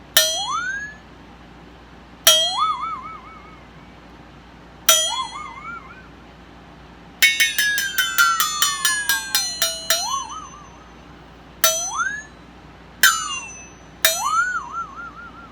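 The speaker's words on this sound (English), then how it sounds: "one more instrument used as a sound effect called a flexotone" A flexatone rings out in separate wobbling, pitch-bending strikes, then a rapid rattling flurry midway, followed by a few more bright warbling hits, close and clear.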